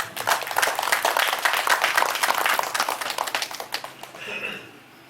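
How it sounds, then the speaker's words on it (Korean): An audience at a memorial ceremony claps warmly for about four seconds, a dense patter of many hands that then fades into a quiet room. "힘찬 박수 부탁드리겠습니다."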